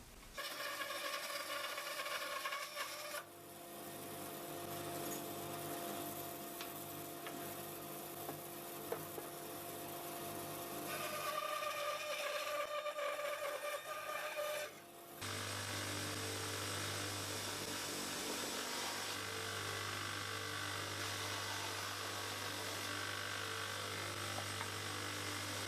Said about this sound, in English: I think I'll just cut it rough on the bandsaw, and then I'll just sand it up.